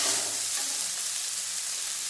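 Rice frying in a pan with cumin seeds gives a steady, close hiss of sizzling, bright and even from start to finish with no voices.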